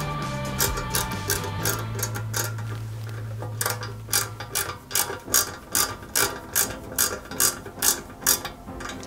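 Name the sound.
driving small flat-head screws into model car part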